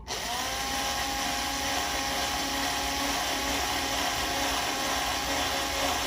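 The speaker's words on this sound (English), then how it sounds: "I think that drill might be too big." A power drill whirs steadily at high speed for several seconds making a small hole in a Harley Benton guitar, a constant loud mechanical whine with no pauses.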